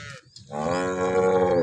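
A dairy cow at a farm in Banaskantha, Gujarat lets out a long, loud, close moo, preceded by a short snort or breath.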